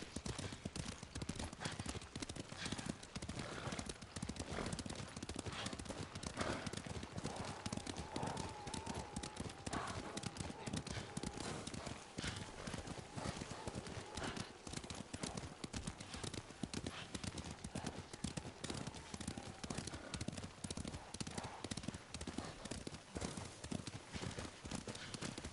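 Horse hooves clip-clop steadily in the video game Ghost of Tsushima, a brisk, even rhythm that runs without a break for the whole stretch.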